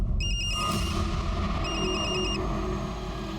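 A mobile phone rings with a repeating electronic tone in two short bursts, faint over a steady low background rumble.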